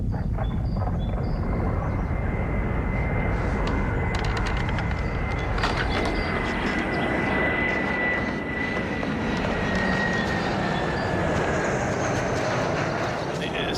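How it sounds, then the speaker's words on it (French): An airplane droning overhead in a steady, broad engine roar with a faint rising and falling whine, while people talk over it. "C'est un avion?"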